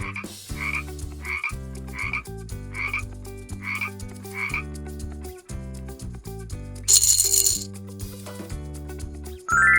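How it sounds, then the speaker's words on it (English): Cartoonish green toy frog croaking in repeated bursts over a bouncy children's music backing, with a bright chime flourish near the end. "Yes, it is a frog."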